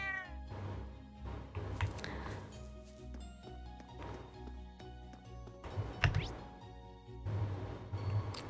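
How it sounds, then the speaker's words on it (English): A cat meows repeatedly in the video game Trails of Cold Steel, the calls rising over background game music and ambience. "How's the kitty?"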